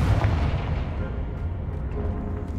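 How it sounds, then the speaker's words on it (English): A Confringo fire spell blast in the Hogwarts Legacy video game, a single loud low-heavy boom that decays into a rumbling tail over a couple of seconds. "Confringo!"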